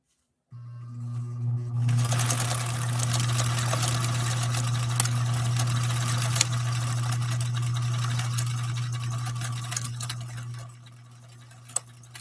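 Sewing machine running a test stitch with a different needle and bobbin, a steady close motor hum with fast rhythmic ticking that runs continuously for about ten seconds and then stops, no talk.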